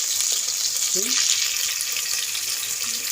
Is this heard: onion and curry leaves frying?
yes